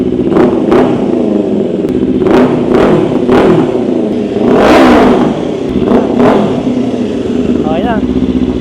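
Big bike motorcycle, swapped in for a scooter, revved repeatedly during a sound check: a steady loud idle broken by about eight sharp throttle blips, close by, with a person speaking over it.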